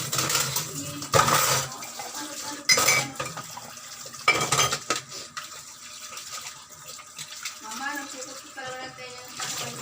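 Dishes, pots and cutlery being washed under running water, with repeated loud clanks and scrapes of metal and plates, close and busy throughout.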